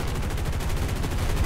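Machine-gun fire from a P-47N-15 Thunderbolt fighter in War Thunder, a steady rapid rattle of shots running unbroken and evenly loud for the whole moment.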